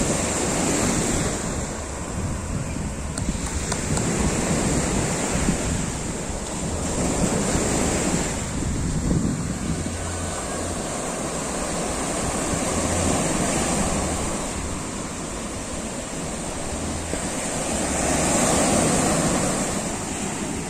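Sea waves roll onto the beach at Eforie Nord, a steady, loud wash of surf with gentle swells and constant wind noise on the microphone, and no voices.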